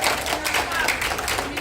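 Brief audience applause at an indoor presentation on eco-farming fertilizer, a dense, continuous patter of many hands clapping at moderate loudness.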